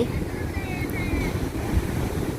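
Sea waves at Ban Krut beach in Thailand wash in as a steady, soft rumble with breezy wind noise over the shore, continuous and moderately loud with no distinct breaking crash.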